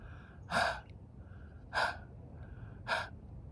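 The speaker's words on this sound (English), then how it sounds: "imagine you are holding a mirror in front of you and you are going to fog that mirror using your breath" Ujjayi yoga breathing, exhaled through a constricted throat as if fogging a mirror: three soft, breathy, hissing exhales spaced about a second apart, close and quiet with no talking.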